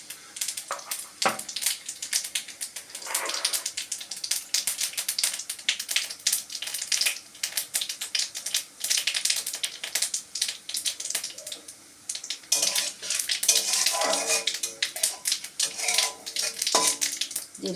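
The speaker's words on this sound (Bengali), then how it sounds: "আমি জিরে ফোড়ন দিয়ে দিলাম।" Cumin seeds frying in hot oil for tempering crackle and sizzle as a dense stream of small pops, with a few metallic pan or utensil clicks scattered through, and no one talking.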